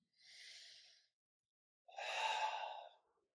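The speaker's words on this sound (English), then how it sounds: "I want to rise up and exhale forward" Two breaths during a front break fall exercise: a soft inhale, then after a pause a stronger, forceful exhale, close and otherwise silent.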